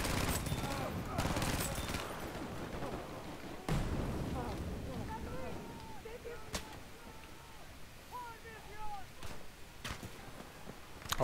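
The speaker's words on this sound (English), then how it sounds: "did you see him pegging me with bullets?" Enemy gunfire in Battlefield V, with rapid bursts and scattered shots in a chaotic battle, fairly quiet in the mix under someone talking.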